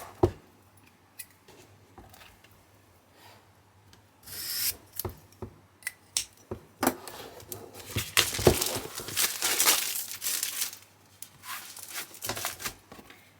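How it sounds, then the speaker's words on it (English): Heavy chipboard sheets being unpacked from their wrapping in a craft room, giving scattered rubbing, rasping and crinkling handling noises that start faint and grow busier and louder toward the end, with no talking. "Let's open up this pack."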